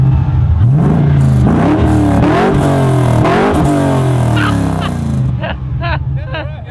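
An LS V8-swapped Holden HQ accelerates hard, engine revs climbing through gear changes with deep intake induction roar, loud and close, while people talk over it near the end.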